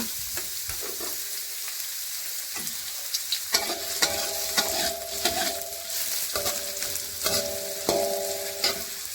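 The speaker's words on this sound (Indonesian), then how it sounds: "Lalu panaskan 5 sendok makan minyak dan tumis bawang merahnya ya." Shallots sizzle and crackle steadily in hot oil, with intermittent scraping and stirring knocks from a utensil against the pan.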